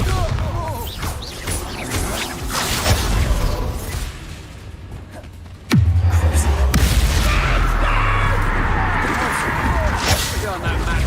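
A Bombarda spell explosion in Hogwarts Legacy lands as a sudden heavy boom midway through, with a deep rumbling tail, amid clattering combat effects; people talk over the action throughout.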